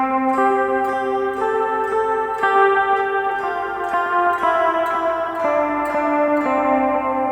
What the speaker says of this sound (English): And the worst melody I can think of is Twinkle Twinkle Little Star.